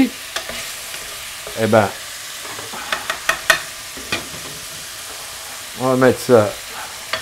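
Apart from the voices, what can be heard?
pork pieces frying and being stirred in a pan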